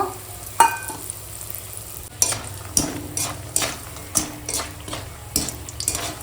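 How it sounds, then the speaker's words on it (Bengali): Lentil dumplings (bori) fry in oil in a pan as part of a bottle-gourd ghonto, a steady close sizzle broken by about seven or eight sharp stirring scrapes at an uneven rhythm, with no talk. "এখন বড়িটা ভেজে নেব"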